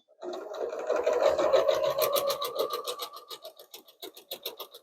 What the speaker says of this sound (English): without catching that up with your sewing machine. And we're going to sew 1/4 inch on each side.